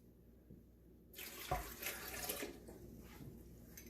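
One cup of water pours into a blender holding a frozen banana. After a second of quiet, a steady, fairly loud rushing splash starts and runs to the end with no talk.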